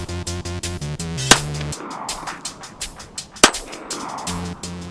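A Girsan MC1911C pistol fires two sharp, loud shots a couple of seconds apart, each a sudden crack over background rhythmic tones and hum.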